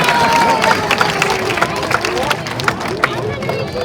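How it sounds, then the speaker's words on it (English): Clapping from the crowd at a Blackpool sea lion show, a busy, steady patter mixed with crowd hubbub and nearby voices throughout. "Let's give Anya and Gina a big round of applause, everybody"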